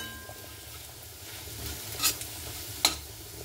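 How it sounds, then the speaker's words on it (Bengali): Black cumin and spices being stirred in a pan while frying, a soft steady sizzle with a couple of sharp scraping clinks of the spoon near the end, no talking. "সবগুলোকে দিয়ে একটু ভালো মতো করে নাড়াচাড়া করে নিলাম।"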